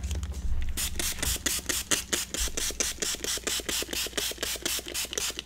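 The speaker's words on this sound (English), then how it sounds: "So let's bring in the distress sprayer." A Tim Holtz Distress sprayer is pumped over and over in a steady, evenly spaced train of close, crisp ratcheting clicks and spritzes, heard alone.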